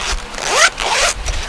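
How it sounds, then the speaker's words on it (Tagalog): The zipper on an Avon pouch is pulled open in two quick, close rasping strokes, loud and clear with no talk over it. "So, ito, di-zipper din."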